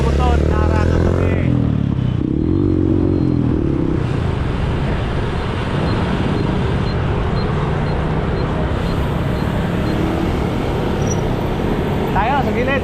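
Motorcycles ride along a busy road near the Mall of Asia, giving a continuous engine and traffic roar with passing whines, while people talk over it.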